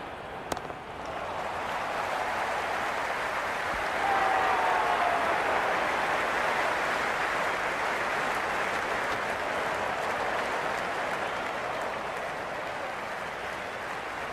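A broad, steady wash of crowd applause and cheering from the stands in a Big Bash cricket video game, Sydney Sixers against Adelaide Strikers, swelling slightly partway through and holding for the whole stretch.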